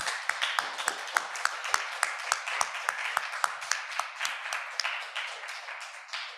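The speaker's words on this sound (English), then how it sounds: "Let's give Bahaar one more round of applause" Sparse audience applause after a reading, a few distinct claps repeating in a loose rhythm over quiet room noise, fairly faint and thinning toward the end.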